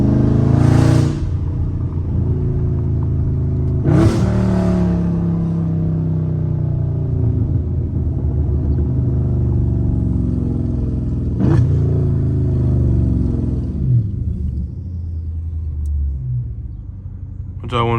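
Dodge Charger Scat Pack engine revving under manual shifting, a loud deep rumble with several sharp bursts and pauses between gears, close up, with voices talking at times.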